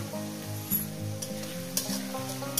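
Onions frying in a pan with a spoonful of salt for a chicken and radish curry, giving a steady close sizzle with occasional stirring scrapes and clacks, no voice.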